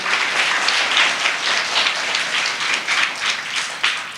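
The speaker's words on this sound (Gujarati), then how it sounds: "તો થોડી તાળીઓનો ગડગડાટ થઈ જાય" An audience at a community education seminar claps together, a dense, sustained wash of many hands applauding at close range for several seconds without a break.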